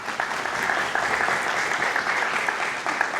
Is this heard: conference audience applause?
yes